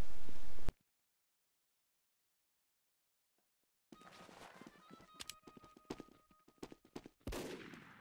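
Gunfire from a Team Fortress 2 weapon that can hit several players at once: a loud burst at the start, silence, then a busy stretch of sharp repeated shots and clattering game sounds.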